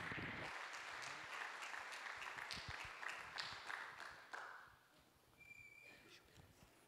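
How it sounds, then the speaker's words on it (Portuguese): A church congregation applauding, dense clapping that stays strong for several seconds and then fades away, leaving quieter room sound and faint voices. "Aplauda ao Senhor."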